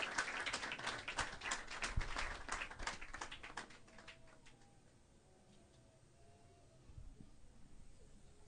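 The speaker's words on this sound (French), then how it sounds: "Applaudissez chaudement," Audience at a graduation ceremony claps for the class godmother, dense applause that thins out and fades after a few seconds, leaving a quiet room with faint scattered sounds.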